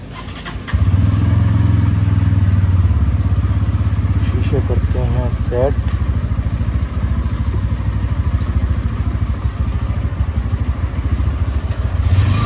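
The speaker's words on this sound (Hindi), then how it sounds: "तो हम बाइक करते हैं स्टार्ट" A motorcycle engine starts on a wet, rainy morning, then settles into a loud, steady, close idle that runs throughout, with a person talking briefly over it.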